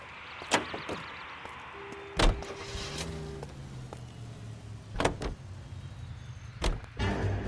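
A car in the LA Noire video game starts up and pulls away, its engine humming low and steady under sharp door thumps and clicks, fairly quiet overall.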